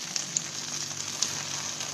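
Food sizzles and fries in a hot pan as it cooks on both sides, a steady close hiss with a few sharp crackling pops and no talking.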